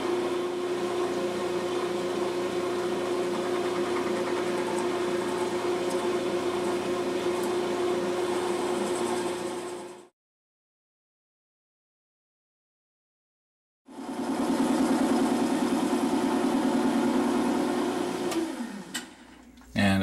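Lathe motor humming steadily while a cutter turns a pen blank, a constant whirring drone that cuts out for a few seconds of silence, then starts again with a rougher grinding tone.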